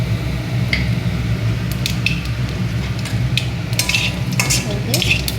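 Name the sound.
black cumin seeds tempering in hot oil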